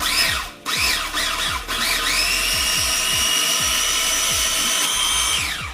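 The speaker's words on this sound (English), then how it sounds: "Let's go ahead and start grinding this up." An electric grinder pulverizes oatmeal into flour: the motor spins up with a rising whine, then holds a steady, loud high-pitched drone under a gritty churning, with a few brief stutters early on before winding down at the end.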